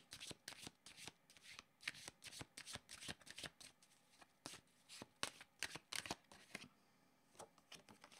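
Tarot cards are shuffled and drawn in a quiet room, a run of quick papery riffles and flicks in irregular bursts, close and soft, with brief pauses between.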